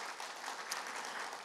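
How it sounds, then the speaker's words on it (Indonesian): Church congregation applauding during a worship service, a dense continuous wash of hand clapping that holds steady and fairly faint throughout the short stretch. "Beri tepuk tangan yang paling meriah buat Allah kita."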